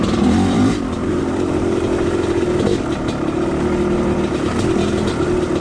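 A dirt bike engine on a trail drones and revs steadily throughout, loud and close, with a slight dip in the rev early on and no talk.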